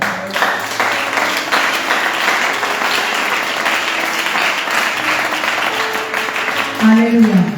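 A church congregation applauds, sustained dense clapping from a crowd, with voices calling out and a sung or spoken tone rising at the end.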